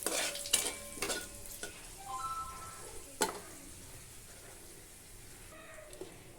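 Cardamom, dried red chillies and whole cumin frying in oil, a crackling sizzle with scattered sharp pops and stirring clatters early on, fading to a quieter hiss, no voices.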